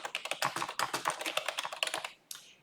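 Computer keyboard typing to rename a spreadsheet tab, a quick run of close, crisp key taps in an uneven rhythm, ending with a slightly heavier press, with no talk.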